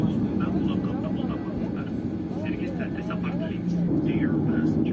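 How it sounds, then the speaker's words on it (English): Steady engine drone and cabin hum inside a SCAT Airlines Boeing 737 preparing for takeoff, loud and constant throughout, with people talking over it. "our aircraft is preparing for takeoff"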